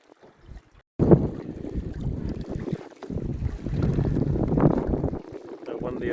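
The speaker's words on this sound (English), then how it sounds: "So windy out here, mate." Wind gusts buffet a small dinghy on Marlborough Sounds water in New Zealand. After a quiet start, strong roaring microphone wind noise surges in and keeps going over faint water sounds.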